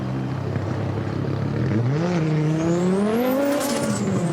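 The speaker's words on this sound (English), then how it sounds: "This time it's the Nitro RX car that comes across the line ahead." Nitro RX rallycross race car at a snow and ice Race of Champions event in Pite Havsbad, Sweden, its loud engine note climbing steadily in pitch as it accelerates close by, a continuous roar with no talk over it.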